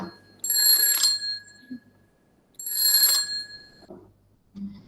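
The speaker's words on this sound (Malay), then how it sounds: "loceng akan dibunyikan 2 kali" A bell marking round timing at an online pantun competition in Bagan Datuk rings twice, two bright metallic rings about two seconds apart, close and clear against near silence, with faint low sounds between them.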